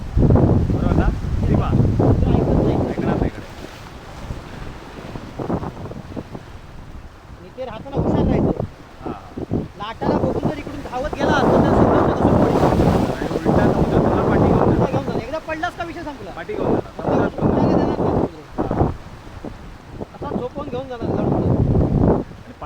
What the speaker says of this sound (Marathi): इकडे लाट ना डायरेक्ट आक्रमण करतो